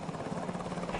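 Helicopter rotor and engine drone as a steady, continuous low rumble with a dense broadband wash, holding constant throughout without breaks.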